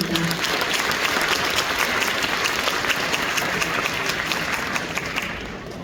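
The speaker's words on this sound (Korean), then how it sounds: "다시 한번 큰 박수" An audience at a 3.8 Democratic Uprising memorial ceremony in Daejeon applauds a singer, a student choir, a high school wind band and a university band, steady dense clapping that stays loud throughout and tapers slightly at the end.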